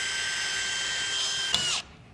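A power drill whines steadily while boring holes for a coilover conversion on a Chevrolet C-10 truck, loud and close, then spins down and stops near the end.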